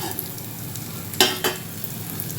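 Eggplant masala sizzling softly in a pan, with a steady low frying crackle and two brief louder scrapes of a stirring spoon.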